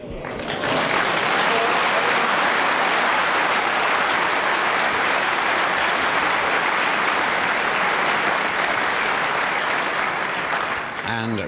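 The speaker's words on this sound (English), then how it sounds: "Reardon applauds that brilliant snooker by the South African." Sustained audience applause fills a 1978 World Snooker Championship final after a fine snooker shot, starting abruptly and holding a dense, even clatter of clapping for about ten seconds before fading.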